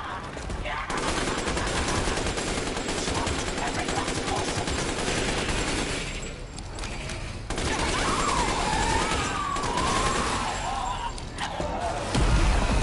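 Sustained machine gun fire in Resident Evil Village, a dense, loud rattle of rapid shots running almost unbroken for about twelve seconds, with a short lull midway and a brief stretch of talk or a cry partway through.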